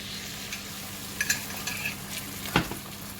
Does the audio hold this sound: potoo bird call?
no